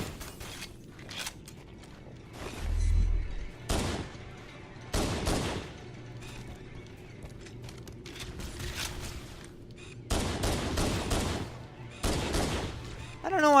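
Enemy plasma weapons fire in a sci-fi shooter game, coming in several loud bursts of rapid shots separated by quieter gaps, with a low thump and mechanical clatter mixed in.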